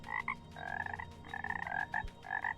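A green frog in the video game Everything croaks in short, nasal, rhythmic bursts, five or six close clear calls in quick succession with no talking.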